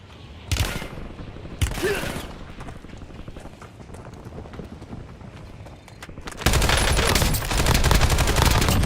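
Incoming fire in a video game: sharp heavy bursts ring out early, then a dense, loud barrage of rapid gunfire takes over toward the end.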